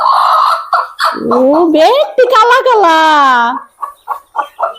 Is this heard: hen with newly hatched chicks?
yes